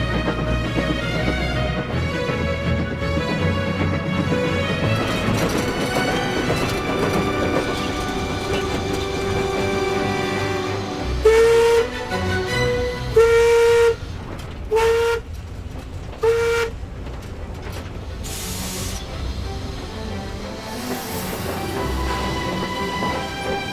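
A steam train runs across hot, arid Australian terrain, its steady mechanical rumble carrying under a continuous tonal backdrop, broken midway by a string of short, loud horn toots.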